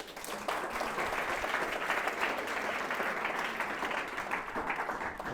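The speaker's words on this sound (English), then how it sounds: "A big round of applause to sir." An audience gives a speaker a sustained round of applause, an even, continuous wash of many hands clapping that holds steady throughout.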